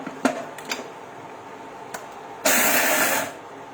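An electric mixer grinder grinds groundnuts, starting with a few clicks and taps before a short loud whirring burst of about a second that cuts off abruptly.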